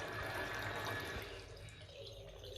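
Water runs steadily from a hot water tap that has low pressure, a continuous faint rushing that eases slightly partway through.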